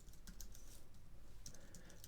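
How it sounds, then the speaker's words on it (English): Typing on a computer keyboard during C# coding in Unity, a quick run of soft clicky keystrokes heard faint and close, with no talking. "I started typing this"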